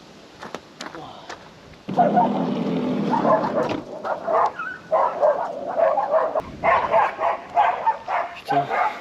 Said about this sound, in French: Putain, ils sont vénères les chiens de bon matin.